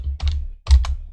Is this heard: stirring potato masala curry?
no